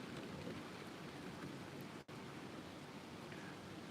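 Steady rain from a storm pours outside in Alaska, a dense, even hiss at moderate level that drops out for an instant at the midpoint before resuming, with no talking.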